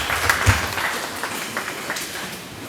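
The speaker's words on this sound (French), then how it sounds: "Acclamons pour la parole de Dieu." A church congregation applauding together during a service, a steady wash of clapping with one louder burst near the start, then holding at an even level throughout.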